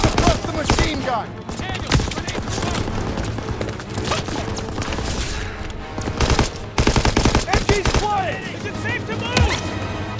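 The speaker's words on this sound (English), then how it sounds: "Suppress the machine gun!" Call of Duty World War 2 combat brings dense, continuous machine gun fire that runs almost without a break, loud and close, with soldiers shouting over the bursts.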